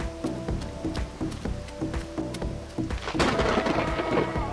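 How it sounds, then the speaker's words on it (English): Steady rain pours down during a thunderstorm, with heavy rumbling thunder building and swelling louder toward the end. No voices are heard. "Tony, we have to hide from the rain."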